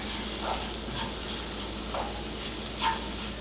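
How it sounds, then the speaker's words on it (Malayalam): Coriander and pepper powder sautéing in a pan gives a soft, steady sizzle with light scraping from stirring, a few faint clinks standing out, and no voices. "ഇനി നമുക്ക് ഈ പൊടികളുടെ പച്ചമണമൊക്കെ മാറുന്നവരെ കുറച്ച് നേരം ഒന്ന് വഴറ്റി കൊടുക്കാം."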